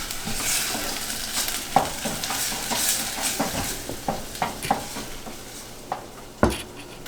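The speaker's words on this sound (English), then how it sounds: "Just stir it in a few minutes, make sure it's not burning." Tomato paste sizzles steadily in a pan while a spoon stirs it, scraping and knocking at an irregular rhythm with a few sharper clacks against the pan, close and fairly loud, with no talking.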